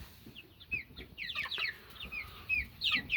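Silver lace Wyandotte and lavender Orpington chickens clucking in a tent, a string of soft close clucks and short squawky calls in an irregular rhythm, with no talking.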